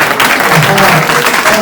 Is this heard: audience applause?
yes